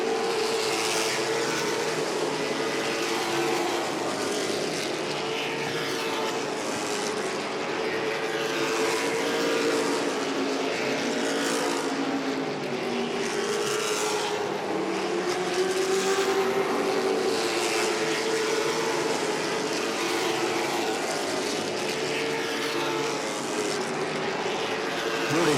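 Late model race cars circling Langley Speedway, a loud continuous roar of several engines rising and falling as they sweep past, heard without talk.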